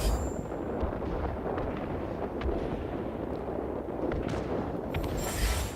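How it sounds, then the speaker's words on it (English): Bombs from a B-32 bomber exploding in a video game: a continuous, dense rumble of blasts and crackling detonations, loud and sustained throughout, swelling again near the end. "we have now dropped our bombs"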